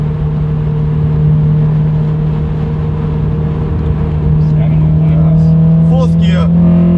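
A Honda Accord engine drones loudly and steadily from inside the car, with the revs rising and shifting near the end as it drops down through the gears, and a voice is heard over it.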